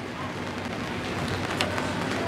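Steady rain falling outdoors at Jacobs Aquatic Center water park in Key Largo, a dense even hiss that holds at a constant level throughout, with no voices standing out.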